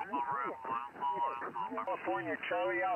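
Ham radio signals on another band come through as band-limited, slightly warbling voices of operators talking over the receiver, continuous and fairly loud above a background noise floor.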